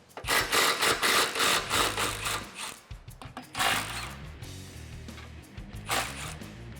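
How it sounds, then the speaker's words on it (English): A 15 mm deep socket loosening the nuts on the exhaust band clamps of a 2015-2017 Mustang GT, heard as bursts of quick, close ratcheting clicks that come and go between pauses. "We're gonna loosen up, but not completely remove, the nuts on both of the band clamps here"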